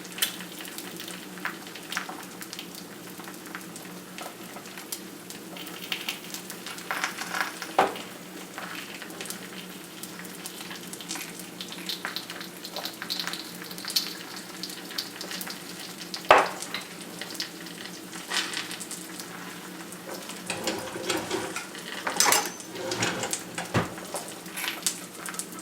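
Eggs sizzle and spit steadily in a smooth cast iron skillet, a continuous close frying crackle with a few louder pops and scrapes scattered through, no talking.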